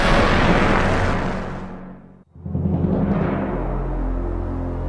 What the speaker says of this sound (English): Commence explosion at the test pad.